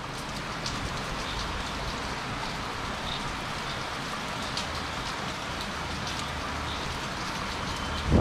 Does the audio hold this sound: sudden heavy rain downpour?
yes